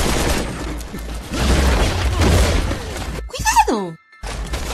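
In Resident Evil 6, a dense burst of gunfire and booming impacts, loud and chaotic, followed by a sharp sweeping effect and a brief drop to near silence.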